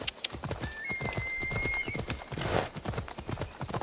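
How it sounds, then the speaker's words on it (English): A horse in Assassin's Creed Odyssey clops along at a steady trot, hooves thudding rhythmically and close, with a brief whine-like tone and soft clatter layered over the gait. "Mountain horse."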